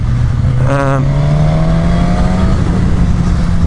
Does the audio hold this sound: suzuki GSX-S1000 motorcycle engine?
yes